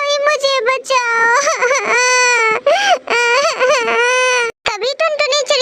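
A loud, high-pitched voice wails and sobs continuously in an imitation of a small cartoon bird crying, with brief breaks between long tearful cries.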